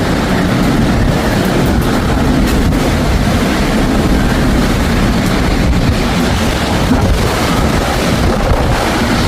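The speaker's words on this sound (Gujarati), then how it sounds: "અવાજ તો આવતો જ હશે પવનનો." Strong, cold wind gusting outdoors in Canada ahead of forecast rain, a dense, continuous roar buffeting the microphone steadily throughout with no pauses.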